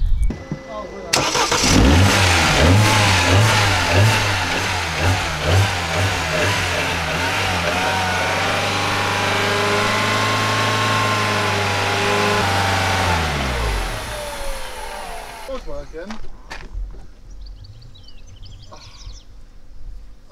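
A Mazda 323 with no MOT starts up and revs, its pitch climbing and falling for about fourteen seconds before the engine cuts out, with people talking nearby.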